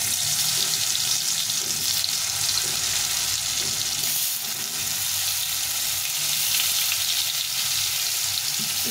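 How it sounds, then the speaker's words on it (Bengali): Marinated pointed gourd (potol) fries in hot oil in a pan, giving a loud, dense, continuous sizzle with steady crackle throughout and no talking. "এখন এইটাকে ভেজে নেব"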